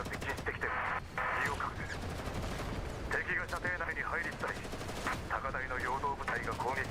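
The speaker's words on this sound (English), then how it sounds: "an ear-splitting alarm goes off in the northeast, followed by a vicious burst of gunfire" A vicious burst of gunfire in Girls' Frontline, with rapid automatic shots rattling in clusters alongside an alarm-like tone and a voice speaking over the battle.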